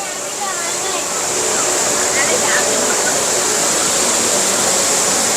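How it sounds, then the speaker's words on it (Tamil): Water sprays and pours steadily in a children's water play area at Singapore airport, a loud continuous hiss of falling water close by with no break. "இங்கே வேலை பார்த்தீங்கன்னா ஃபுல்லாக அப்படியே தண்ணி ஊற்றுது"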